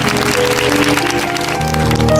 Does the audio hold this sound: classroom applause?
yes